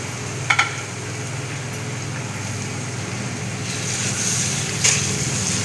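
Bone-in minced meat fries in a pan for keema matar, giving a steady soft sizzle with a few light scrapes as it is stirred. The sizzle swells slightly toward the end.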